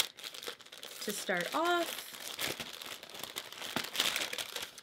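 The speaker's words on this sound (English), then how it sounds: "There is the wrapping paper" Wrapping paper crinkles and rustles while a Dyson Corrale hair straightener is unboxed, a steady papery crackle running close under a voice.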